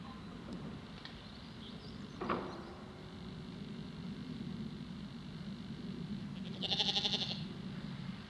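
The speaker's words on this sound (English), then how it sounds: "Yep, still a few sheep left." A sheep bleats once, moderately near, in a field on a countryside walk, following a brief earlier cry, over steady wind and a faint distant hum.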